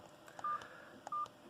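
Two short electronic key-press beeps from an Aspect Two MAXI-KEY big button phone, quiet and close, evenly spaced about two-thirds of a second apart.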